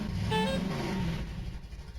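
A vehicle horn in Voices of the Void gives one short, faint honk that quickly fades into quiet background hum.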